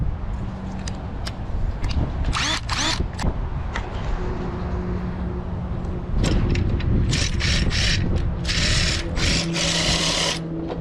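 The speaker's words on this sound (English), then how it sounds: "when I want to change the clamps, I reach up to my driver up here." A power driver whirs in repeated short bursts while adjusting the clamps on a MikroBench, with ratcheting mechanical clicks and gear noise close by, growing busier and louder toward the end.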